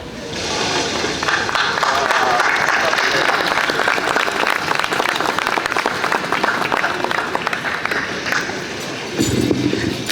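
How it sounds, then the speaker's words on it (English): Crowd at an outdoor honours event in Dalston Square applauding Natalie, sustained dense clapping from many hands for about nine seconds before fading, with voices mixed in. "Can we another round of applause for Natalie and her child, please?"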